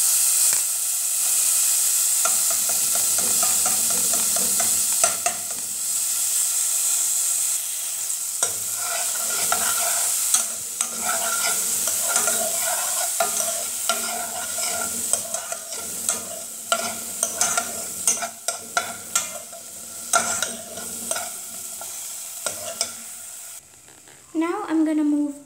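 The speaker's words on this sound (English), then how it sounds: "I'm going to add my corn into the butter" Corn fries in butter in a pan, a steady close sizzle and hiss with repeated scraping stir strokes throughout, briefly quieting near the end.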